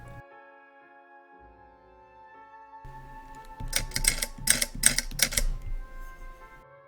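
An antique Yost typewriter clacks in a quick burst of about six sharp keystrokes at close range over a quiet hum, with a brief softer shuffle beforehand.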